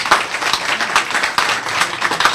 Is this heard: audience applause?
yes